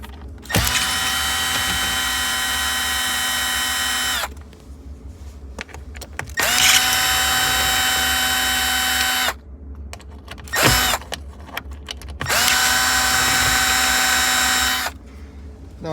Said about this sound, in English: remove these screws with your T15 screwdriver